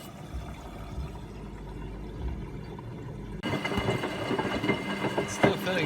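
A washing machine, filled with pasta and other soup ingredients, takes on water while agitating, first as a low rumbling churn, then a busier sloshing, clattering wash that gets louder midway.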